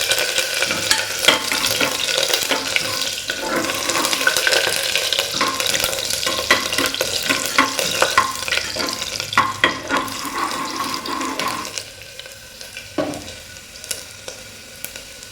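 Five or six garlic cloves and a small piece of ginger fry in a hot pan for a mutton curry, a dense, steady sizzle with stirring that drops away sharply near the end.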